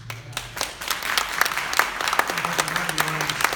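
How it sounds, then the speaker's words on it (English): Audience applause at a Tennessee political debate, a steady wash of many hands clapping from a hall crowd, fairly loud and continuous for several seconds. "Thank you for the applause"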